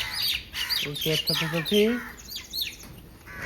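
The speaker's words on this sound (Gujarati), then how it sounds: "અહીં એક બીજી ચકલી આવી." Sparrows chirp amid crows and mynas gathered outside a home, with quick, bright tweets and squawks scattered throughout, partly under a person talking nearby.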